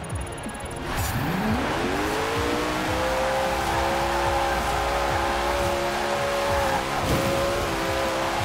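A Koenigsegg Regera drifts in the racing game Forza Horizon 4, with a loud sustained tire squeal rising in pitch at first and then holding over the engine roar for several seconds, close and continuous.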